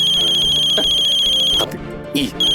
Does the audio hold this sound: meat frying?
no